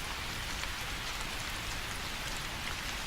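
Steady rain falls without a break, a dense even hiss of drops on surfaces, with no thunder or voices.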